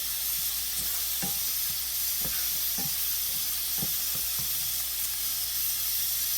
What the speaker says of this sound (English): I'm gonna let it fry up.